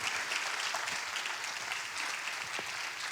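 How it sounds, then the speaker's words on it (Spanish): An audience applauding at a church gathering, a dense, steady wash of many hands clapping throughout, fairly loud and sustained with no break. "vamos a darle un aplauso de cariño a Emi"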